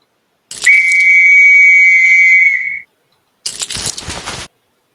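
A whistle on a toy football pitch is blown once in a loud, sustained shrill blast lasting about two seconds, followed after a pause by a brief burst of rattling noise; no one speaks.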